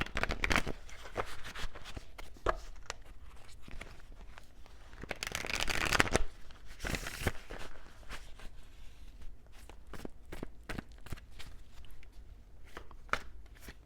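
Tarot cards shuffled by hand, a quiet run of soft, irregular riffling snaps and flicks, with one longer burst in the middle and no talking.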